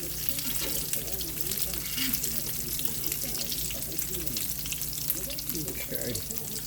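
Salmon patties frying in a pan at breakfast, a steady close crackling sizzle with bursts of oily popping, while a person talks quietly over it.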